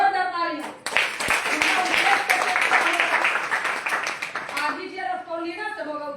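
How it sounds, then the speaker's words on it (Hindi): Audience applause, a sustained burst of many hands clapping that swells and then fades, with a voice speaking before and after it. "एक जोरदार ताली"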